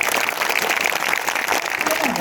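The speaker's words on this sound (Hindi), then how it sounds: "ताली बजा दो" Applause from a kavi sammelan audience in Jodhpur, steady and dense, filling the whole short stretch at close range, with some voices mixed into the crowd noise.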